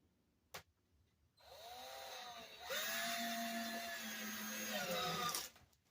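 A drill drives 8 by 1.5 inch wood screws into a wooden layout frame, whirring up after a single knock and then rising in pitch as the screw seats, close and loud.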